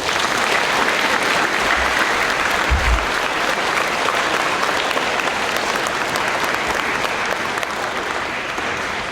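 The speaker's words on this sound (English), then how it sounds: "Let's show our appreciation with one more big round of applause." A full room of audience members claps loudly and continuously at an elementary school Veterans Day program, a dense, sustained round of applause that holds steady to the end.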